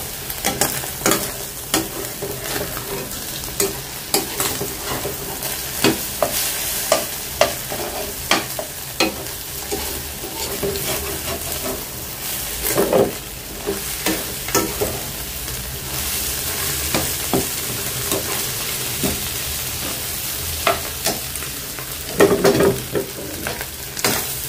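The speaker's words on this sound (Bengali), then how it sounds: "এখন হচ্ছে সাইড দিয়ে একটু ডিমটা দিয়ে দিলাম, ডিমটা একটু ভেজে নেই" Egg added at the side of a pan of onions fries with a continuous bright sizzle, broken by frequent clacks and scrapes of a spatula stirring, no talking.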